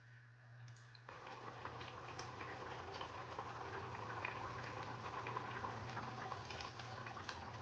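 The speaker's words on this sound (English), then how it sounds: "Stir and let it fry for about 15 to 20 minutes." A blended pepper mix fries quietly in a pot, giving a soft, continuous bubbling sizzle with faint ticking pops throughout.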